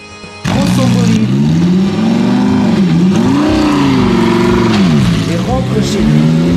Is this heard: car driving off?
yes